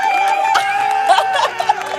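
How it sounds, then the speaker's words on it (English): A recorded cheering sound effect plays somewhere nearby, a steady wash of crowd cheers and whoops with a sustained tone running through it and a few brighter shouts toward the end, loud and continuous. "He's playing like this cheering sound over there."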